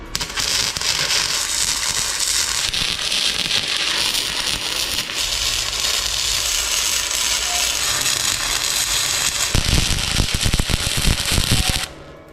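Steel being welded for a firewood rack, a loud continuous crackling hiss that runs nearly nonstop close by, with sharper popping toward the end before cutting off.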